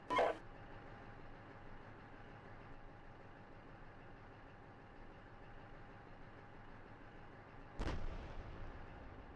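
In a military video game, two sharp, heavy gun or artillery blasts go off, one at the start and one near the end. Between them there is a low, steady engine hum.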